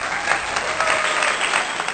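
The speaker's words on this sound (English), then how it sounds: "Ladies and gentlemen, please may I have a round of applause for finally spelling habit correctly." Steady applause from an audience, a dense continuous wash of many hands clapping at even loudness for two seconds with no voices over it.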